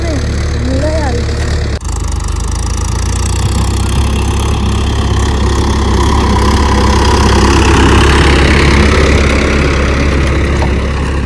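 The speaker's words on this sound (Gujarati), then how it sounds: "એક અમારું ટ્રેક્ટર છે, એક કાકાનું ટ્રેક્ટર છે" A farm tractor engine idles close by with a steady low rumble and a rising, broadband roar, while people talk over it near the start.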